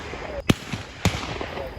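Two sharp gunshot cracks roughly half a second apart from a Matsumoto Castle Gun Corps shooting session, loud and close, with faint background noise and no voices.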